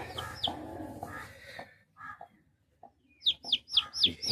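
A hen with a few newly hatched chicks: soft low clucks, then a run of high, sharp chick peeps close by, with quiet gaps between.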